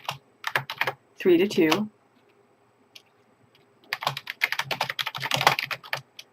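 Fast clacking keystrokes on a computer keyboard as a creator name is entered, two bursts of close typing with a short spoken phrase between them.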